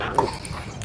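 A dog outdoors at a park gives a brief, faint yip or whimper early on, heard once over steady background noise.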